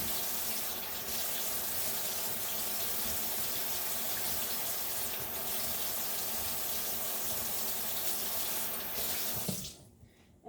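Tap water runs steadily into a sink as small tomatoes are washed, a loud, close, continuous rushing hiss lasting about ten seconds before the flow stops abruptly.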